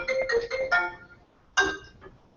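A mobile phone ringtone chimes in two bursts, a longer melodic phrase and then a shorter one after a brief pause, ringing out during an indoor real-estate training class with no talking.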